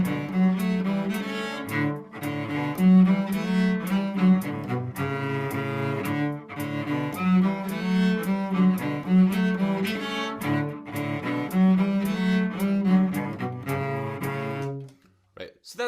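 Cello playing a folk-style harmony line in thirds, bowed notes with steady, sustained phrasing, fairly loud and close, ending with a brief fade.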